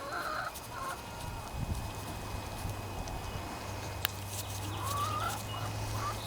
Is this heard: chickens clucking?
yes